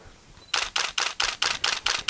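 A camera flash powered by a Quantum Turbo Blade battery fires eight times in quick, even succession, each a sharp bright burst with a brief whine of recycling between, close and loud.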